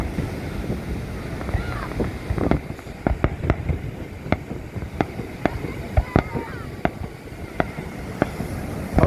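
Fireworks over Long Beach, New York: a rapid series of sharp booms and cracks, some close together, over steady wind and distant surf-like rumble, with a person talking near the microphone.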